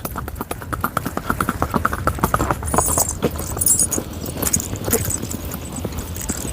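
A Sindhi mare walks with crisp, rhythmic hoof clip-clops at close range, steady and continuous, with a faint jingle of tack and some background noise.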